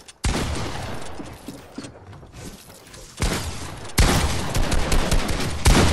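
Gunfire rattles in Fortnite: a loud close burst opens, then irregular shots crackle on, and two heavier volleys break in later, near and harsh, with no talk over them.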